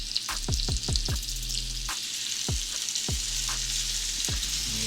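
French toast fries in a pan with a loud, steady sizzle, punctuated by a series of sharp utensil knocks and taps, several in quick succession early on, then spaced out.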